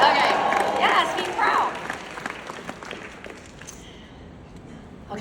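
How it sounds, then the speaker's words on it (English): Audience clapping at a talk, a brisk burst of many hands that is loud at first, then thins and fades away over a few seconds. "Let's get a clap for that."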